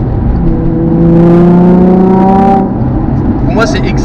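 A Nissan 350Z engine revving to a high-pitched, rising wail for a couple of seconds, then easing off. It is loud and close and heard on its own.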